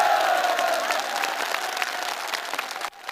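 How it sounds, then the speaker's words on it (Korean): Spectators at a sports match break into sustained applause, a dense, even wash of clapping from a large crowd that carries on steadily before cutting off abruptly near the end. "관람자들은 열렬한 박수갈채를"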